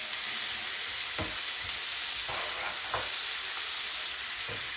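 Finely chopped pieces of a big onion fry in oil for pav bhaji, with a steady close sizzle and a few sharp scrapes of stirring.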